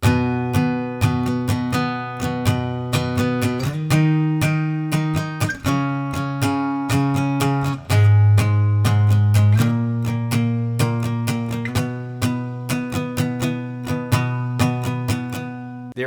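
Guitar plays the chorus of a song, picked octave notes and chords ringing in a steady repeating pattern, solo and close with no voices.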